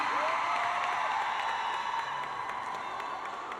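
Crowd applause and cheering at a charity event for a clean-water project featuring Jackson Wang, a dense, steady wash of clapping and voices that stays loud throughout.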